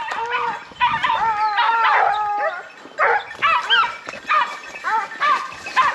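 Hunting dogs baying and yelping at bay during a boar hunt, a dense, continuous chorus of howls, yips and barks from several dogs close by.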